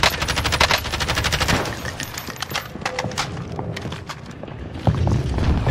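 Rapid bursts of gunfire fill a zombie-themed multiplayer shooter match, dense automatic fire rattling continuously for several seconds, then thinning to scattered single shots and impacts before a louder burst near the end.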